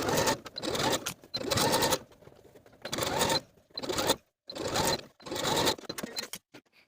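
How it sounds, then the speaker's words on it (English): A sewing machine zigzag-stitching the hems of leggings sounds as about five close, loud bursts of rapid mechanical stitching, each lasting under a second, separated by short quiet pauses. "I'm going to take both of these pant legs to the sewing machine, and I'm going to use a zigzag stitch to hem those edges"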